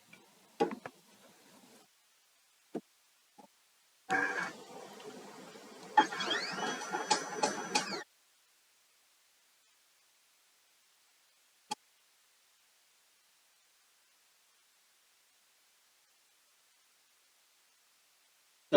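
A Roland BN20 vinyl printer/cutter goes through its setup with a few sharp clicks, then about four seconds of mechanical whirring and carriage motion, followed by silence and an isolated click.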